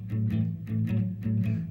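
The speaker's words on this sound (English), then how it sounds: "We started out by playing a bass part like this." A blues guitar plays a low, chunky bass part in short repeated phrases, a thick driving rhythm with pick attacks, alone and close.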